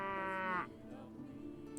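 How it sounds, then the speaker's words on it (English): A single cow's long, harmonic moo in the Perisno mod for Mount & Blade Warband, loud and close, cutting off into low ambient game noise. "Drive the cattle onward."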